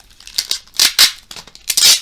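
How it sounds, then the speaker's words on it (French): Adhesive tape is peeled and ripped in several loud, sharp tearing bursts close to the listener, with short pauses between pulls. "le scotch fait pas mal de bruit"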